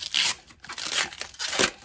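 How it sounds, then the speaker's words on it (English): Scissors cut open the plastic packaging around a polished aluminum roll, producing three close bursts of crisp crinkling and tearing with short gaps between them, with no talking. "Let me get my scissors on this, and I'll get this opened up for us."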